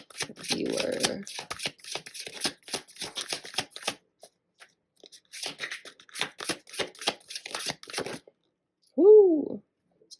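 Tarot cards being shuffled by hand in quick riffling bursts, close and crisp, in two spells separated by a short pause, with a brief vocal sound near the end.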